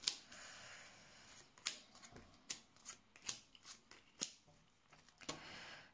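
Tarot cards are drawn and laid out during a reading, producing a series of sharp, crisp card snaps and slaps at irregular intervals over a soft background rustle, with no voices.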